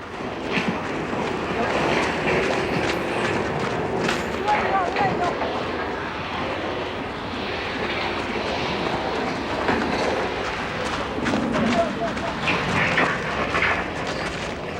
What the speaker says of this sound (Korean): 여기에선 증기기관차를 아직도 사용하고 있다